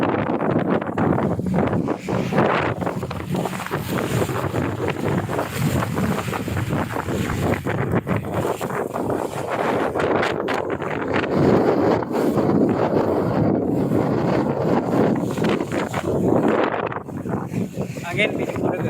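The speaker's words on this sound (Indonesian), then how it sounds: "Karena sepanjang perjalanan kita diterpa ombak terus ini." Passenger boat crossing the open sea near Pulo Aceh, battered by wind and waves: continuous loud wind buffeting and rushing water over a low engine drone, with people talking now and then.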